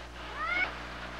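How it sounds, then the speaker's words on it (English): A house cat gives a single short, faint meow midway through an otherwise quiet moment. "And this is our cat, Herbert."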